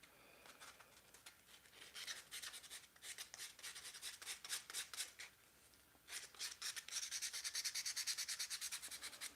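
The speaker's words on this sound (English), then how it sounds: "just a little light sanding on here." Rapid back-and-forth scratching strokes of 180-grit sandpaper hand-sanding wood, close and steady, with a short pause before resuming at a brisker rhythm.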